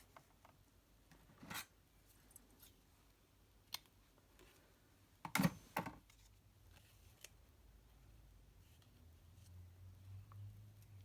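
Paper for a handmade card is trimmed in a quiet room, with a few soft isolated snips and a louder cluster of cutting clicks midway, faint handling noise between.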